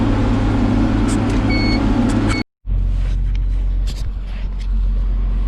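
A round baler runs in a hay field, a loud steady mechanical rumble and drone close up, briefly cutting out for a moment before resuming.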